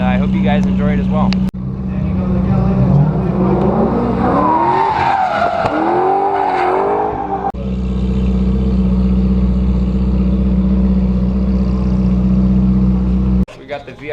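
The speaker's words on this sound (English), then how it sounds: "taking pictures of the cars as they drive by" Exotic sports cars racing past on a track in Las Vegas, loud engines roaring close by with tires squealing as one car sweeps through.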